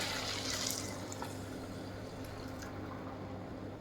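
Hot water pours into a pot of washed rice with salt and garam masala, a close, steady splashing fill that fades to a softer trickle.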